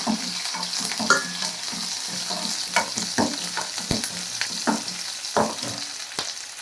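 Garlic and onion fry in a pan with a continuous close sizzle, punctuated by regular stirring taps and scrapes, no voices over it.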